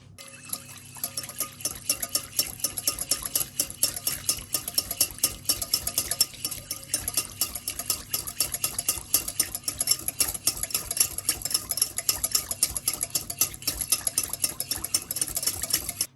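A spoon stirs a milk and melted butter mixture for an eggless plum cake in a bowl, a steady run of close scraping and sloshing strokes that goes on without talk.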